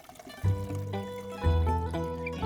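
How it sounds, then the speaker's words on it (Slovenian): Water poured into a garden watering can, a steady gurgling fill that rises in pitch, close and continuous, with a brief break partway through. "Napolnil jo bom z vodo."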